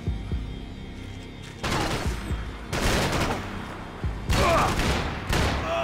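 Bursts of gunfire from the video game Max Payne 3 come in several loud volleys separated by brief quieter gaps, each burst a dense rattle of rapid shots over a low background hum.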